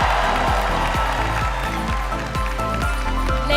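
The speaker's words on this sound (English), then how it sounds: "let's give another round of applause for our selection committee" A pageant audience at the Miss Universe 2018 preliminary competition applauds and cheers, a steady wash of clapping running over a loud, regularly pulsing music beat throughout.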